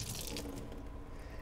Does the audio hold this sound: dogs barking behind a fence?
no